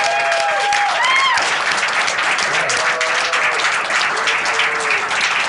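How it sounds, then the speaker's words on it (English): A late-night television studio audience applauds the band Pharaoh with loud, sustained clapping and a few cheers, dense and steady for several seconds, with no talk over it. "Let's give it up for Pharaoh."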